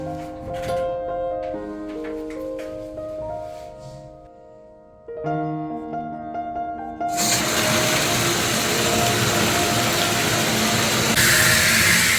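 Water running for a bath: soft musical tones play first, then a loud, steady rush of water begins partway through and continues without a break to the end.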